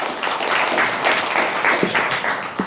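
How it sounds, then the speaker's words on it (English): Audience applause at a school board meeting, a loud, close burst of many hands clapping steadily throughout with scattered individual claps standing out. "You got everybody started by getting them clapping"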